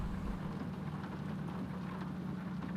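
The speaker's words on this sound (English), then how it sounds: "Of course, the rain on the mirror is not helping either" Rain falls steadily on a car mirror during a racing-game session, a continuous soft hiss of drops over a low, even hum, fairly faint with no talk.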